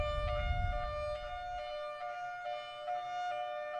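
A tornado warning siren sounds steadily in a high-low pattern with a bright electronic tone, pulsing regularly, fairly loud and heard alone.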